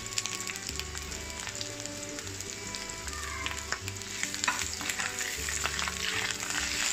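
Crab sticks and shredded carrot stir-fry in a hot wok, a soft constant sizzle punctuated by scraping spatula strokes, close but fairly quiet, with no speech.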